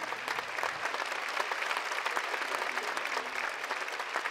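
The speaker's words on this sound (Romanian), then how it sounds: "aș vrea un rând furtunos de aplauze pentru această orchestră minunată" Concert audience gives sustained, stormy applause for an orchestra at a live show, dense continuous clapping throughout, moderately loud and even.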